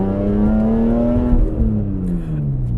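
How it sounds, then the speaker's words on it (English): BMW E46 M3 with its straight-six engine revving hard, a loud, close rising wail that climbs, peaks and then falls away as the revs drop, with rich harmonic tone. "A straight six engine that loves to rev"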